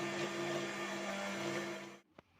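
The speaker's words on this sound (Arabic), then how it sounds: "الزيت والسكر واللبن والبيض هضربهم في الخلاط" Electric blender whirring steadily as it beats oil, sugar, milk and eggs for a red velvet cake batter, a loud continuous motor drone that cuts off abruptly, followed by a couple of faint knocks.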